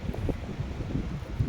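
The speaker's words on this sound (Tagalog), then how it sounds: "malakas ang hangin" Strong, cold wind buffets the microphone in low rumbling gusts, loud and close, with no one speaking.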